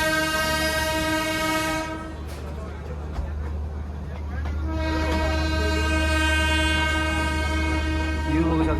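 A Darjeeling toy train runs close by with a sustained, loud horn blast sounding over a low rumbling engine and rolling wheels, voices audible in the background.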